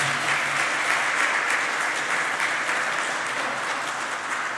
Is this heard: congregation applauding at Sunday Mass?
yes